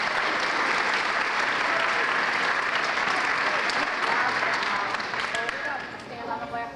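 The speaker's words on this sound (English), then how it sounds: "You can give him a round of applause." A school academic awards ceremony audience claps loudly for a student called up to receive an award, a steady, full round of applause that tapers off slightly toward the end.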